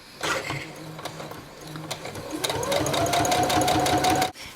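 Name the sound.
sewing machine stitching a false flat fell seam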